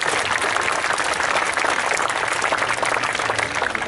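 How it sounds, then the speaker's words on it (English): Steady, dense clapping from a sizeable crowd at a falconry display at the Great Dorset Steam Fair, loud and continuous throughout with no pauses. "give her a lovely big round of applause"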